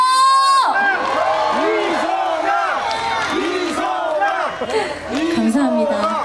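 A large crowd at an evening outdoor concert roars and shouts, with many voices rising and falling in loud, overlapping cheers that fill the whole stretch.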